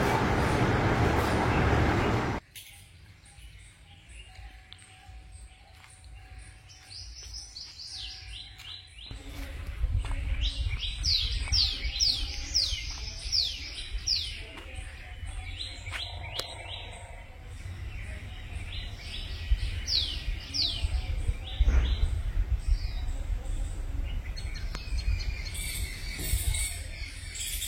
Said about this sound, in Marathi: पक्ष्यांच्या किलबिलाटाचा आनंद घेऊन आम्ही इथून निघालो.